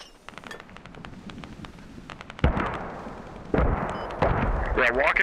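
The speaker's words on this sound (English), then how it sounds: "Your mortars are landing 100 meters past their LAV that we're trying to hit." Mortar shells explode in a video game: scattered gunfire crackles at a distance, then three heavy, loud booms hit in quick succession, each leaving a rumbling tail.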